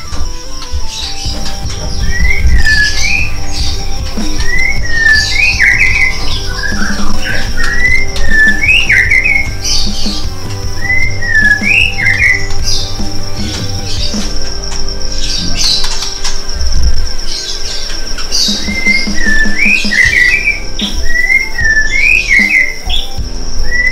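Young white-rumped shamas chirp in short, repeated whistled bursts inside a rearing cage, over a steady mechanical hum and low rumbling background noise.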